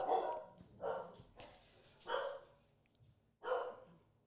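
A dog barks four times in an uneven rhythm, loud and close, with brief quiet gaps between the barks.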